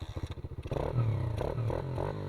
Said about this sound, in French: maintenant, tu démarres la moto.